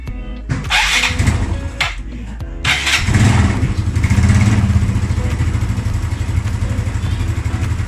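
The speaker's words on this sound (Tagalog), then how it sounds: "So, try na natin paanda rin yung motor." After a few clattering attempts, a Yamaha Mio Sporty scooter engine catches close by and settles into a steady, rattly idle. It runs on alone without any talking.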